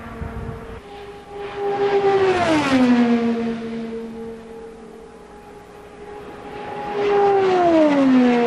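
IndyCars in Indianapolis 500 practice roar past at speed, their high-pitched engine whine swelling and dropping in Doppler sweeps as two cars pass, loud and fading between, without speech.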